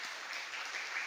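A church congregation claps during a Sunday morning service in a Presbyterian church, a brief, soft wash of applause heard from a distance.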